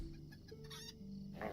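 A rooster in the online game Lord of the Rings Online clucks in short bursts over a steady droning game background, each cluck close and fairly clear, with no one talking.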